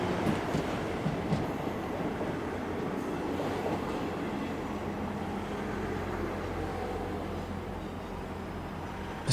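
A South Western Railway electric train runs along the Kingston Loop, giving a continuous rumbling roar of wheels on rails with faint clicking, close by and steady throughout.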